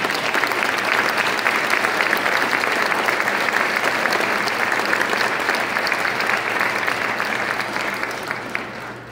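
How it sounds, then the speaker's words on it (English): Sustained, dense applause from a large audience at a college business school building dedication in New Rochelle, a loud even roar of many hands clapping that fades slightly near the end. "Please join me in a round of applause to all the hands."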